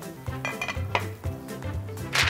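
Chinese meatball mixture with water chestnut is worked by hand and stirred in one direction in a bowl, giving quiet repeated squelching, scraping strokes in a steady rhythm.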